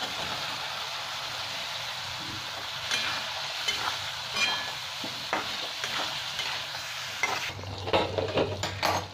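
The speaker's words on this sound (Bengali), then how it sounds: "এবার আমি ভেজে রাখা আলু আর পটল দিয়ে দিলাম।" Fried potatoes and pointed gourd are stirred into sizzling spice paste in a pan for a prawn curry, with scraping spoon strokes over a steady frying hiss that grows louder and busier toward the end.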